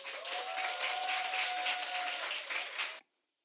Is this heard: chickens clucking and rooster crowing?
no